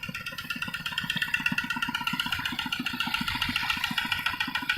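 A walking tractor's small engine chugs steadily with a fast, regular pulse, running continuously at close range with no pauses, in a rice field.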